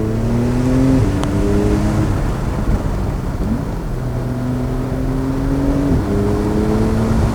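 A 2019 Porsche 911 Targa 4 GTS of the 991.2 generation with PDK gearbox accelerates hard, its engine note climbing steadily and then dropping at each upshift, loud and close from inside the car, no talk.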